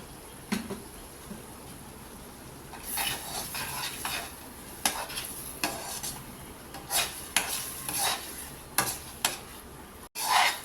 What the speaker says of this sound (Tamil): அல்வாக்கு கிண்டுற மாதிரியே அப்படியே கிண்டிகிட்டே இருக்கலாங்க இல்லைன்னா கட்டி ஃபார்ம் ஆகிடும்